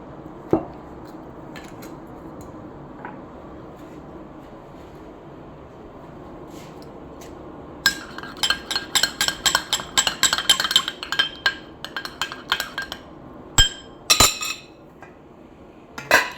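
Water, saffron, food colour and rose water being stirred together in a bowl, with a rapid run of light metallic spoon clinks against the dish after a quiet stretch, close and fairly soft.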